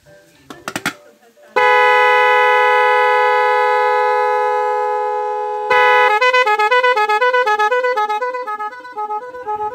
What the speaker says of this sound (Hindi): अब इसमें हमने मोको हॉर्न लगवाए, ये लगाए, अब साउंड निकालते हैं।